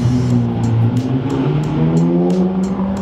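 A loud engine roars steadily at close range as a car drives past at a car event, its pitch shifting slightly as it goes by.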